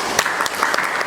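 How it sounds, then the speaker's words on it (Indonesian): An audience in a teaching-practice class session at a university applauds a speaker, with brisk, closely packed claps throughout a brief moment. "boleh tepuk tangan dulu untuk Pak"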